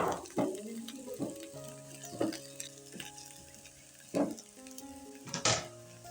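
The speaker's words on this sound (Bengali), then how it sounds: "দিয়ে পেঁয়াজ কাঁচা লঙ্কার আদা ভালো করে ভেজে নিচ্ছি" Onion, green chillies and grated ginger fry in a pan with a steady sizzle, broken by several sharp scraping stirs and clinks of a utensil.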